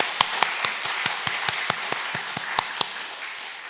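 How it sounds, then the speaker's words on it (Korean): A church congregation gives the choir thanks with clapping, a light, regular series of separate claps heard at moderate distance with a soft room wash behind them. "다시 한번 감사의 박수 보내드리겠습니다"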